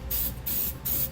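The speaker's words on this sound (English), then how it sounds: "we can just use some flat black spray paint." A can of flat black spray paint hisses in three short bursts, each a sharp, close spray, as it coats a wheel-well area near the bed liner of a 2015 GMC Sierra 3500 pickup truck.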